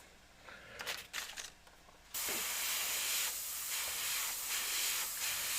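An airbrush sprays paint through a stencil, a steady close airy hiss that starts abruptly after some soft handling sounds and runs on without talk.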